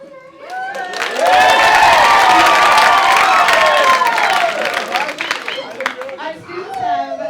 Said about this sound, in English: You can clap over